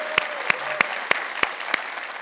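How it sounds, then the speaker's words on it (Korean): At a crowded civic town-hall event with Incheon's mayor in Songdo, the crowd claps in unison to mark his 200 days in office: six sharp, evenly spaced claps in a steady rhythm over a quiet room hum. "200일 축하 박수 한번 다시 치고 시작할까요?"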